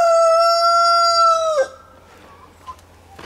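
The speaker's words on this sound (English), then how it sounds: "Are you done, Rooster?" A rooster crows once in a garden, a long, loud, close call lasting about a second and a half, then breaking off into quiet background with a faint cluck or two.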